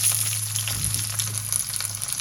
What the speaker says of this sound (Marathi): हा कांदा फोडणीला घालूया